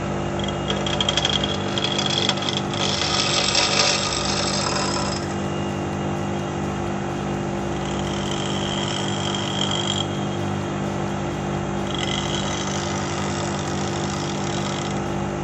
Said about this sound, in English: there's just a little bit of excess weld to remove with the grinder to make sure the bolt will fit into the hole